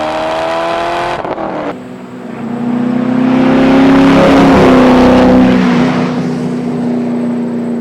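A C5 Corvette accelerates hard in a straight line, its engine roar climbing through the revs, dropping briefly at a gear change, then rising loud and close again before easing off.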